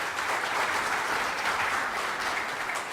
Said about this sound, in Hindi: मैं एक चाहता हूँ उनके लिए ताली एक बार बजाई जाए सबसे